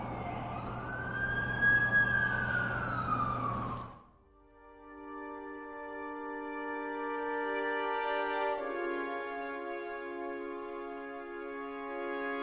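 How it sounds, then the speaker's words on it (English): An ambulance siren in the video game The Amazing Spider-Man 2, first a loud wailing sweep that cuts off, then a steady multi-tone electronic siren held for several seconds, close and prominent. "That's the ambulance I called."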